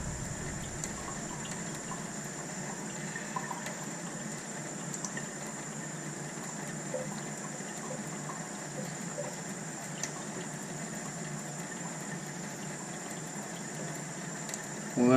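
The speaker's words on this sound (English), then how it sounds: "I'm gonna clean the razor." A straight razor is rinsed in water after honing on a Suehiro Kouseki 10000 wet stone, giving a steady faint trickling and sloshing that runs throughout at low level.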